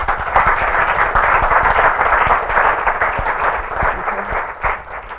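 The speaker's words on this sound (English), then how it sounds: "maybe a round of applause for the organizers" An audience at a Cambridge lecture applauds the organizers with sustained, dense clapping from a large crowd, loud and continuous, easing slightly toward the end.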